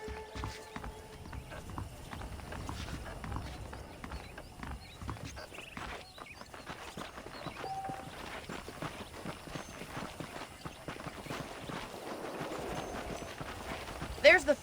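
Rhythmic clip-clop of horse hooves at a steady walking pace in the video game Red Dead Redemption, continuing throughout, with talking over it and a faint whinny.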